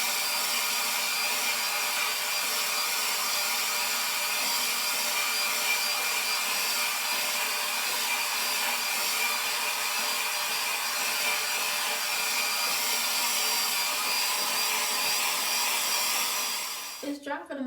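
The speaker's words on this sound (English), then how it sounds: "I'm gonna go ahead and I guess speed it up from this point while I am blow drying." Hair dryer blowing continuously while drying hair, a steady loud rushing whoosh lasting over fifteen seconds before cutting off at the end.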